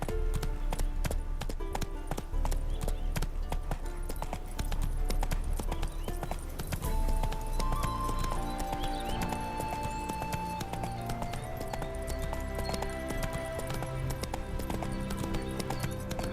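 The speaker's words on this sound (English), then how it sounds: "Spooking my horse." Horse hooves clip-clop steadily in The Witcher 3: Wild Hunt, a continuous trotting rhythm under dense game music and ambience, with no talk over it.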